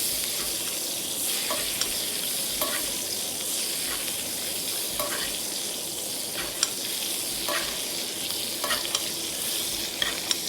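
A beef steak sizzles in a pan with thyme and garlic while being basted, a constant loud hiss and crackle punctuated by periodic spoon scrapes and splashes of fat, with no talking.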